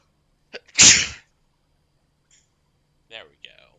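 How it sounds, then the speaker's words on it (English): A single loud, close sneeze bursts out alone, followed by a few brief soft breathy sounds and a quiet sniff afterward. "I don't know why I've been sneezing so much recently."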